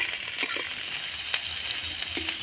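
Carrots stir-fry in hot oil for chowmein, giving a continuous close sizzle with occasional light clicks and scrapes of stirring and no voices.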